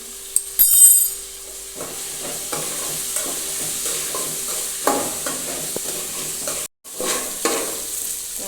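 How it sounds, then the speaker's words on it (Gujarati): Sliced onion and potato fry in a pan with a constant sizzle, broken by stirring scrapes and knocks from a spoon, and a sharp clatter near the start. "ડુંગળી અને બટેટાને આપણે બરાબર ચડાવી લઈશું"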